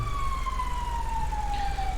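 A police car siren in a GTA roleplay game wails as one long, slowly falling tone, loud and steady over a low engine hum, with no speech.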